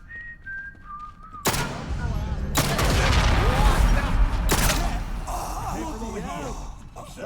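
Gunfire erupts in Atomfall, a first-person survival game, loud broadband bursts of shots and a rattling fusillade after a whistling tone, with heavy reverberant blasts continuing through the battle.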